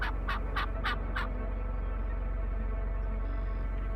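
Wild turkey gobblers fighting let out a quick run of about five loud, rattling gobbles at the start, then fall silent under a steady low outdoor rumble.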